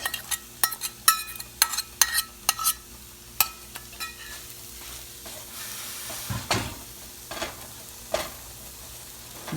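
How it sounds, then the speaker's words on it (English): Cooked mussels in masala being stirred in a pan, with a rapid run of sharp metallic spoon-on-pan clanks that settles into a quieter sizzle with occasional knocks, close and without speech. "I'm going to add in the cooked mussels. I'm going to mix it up good."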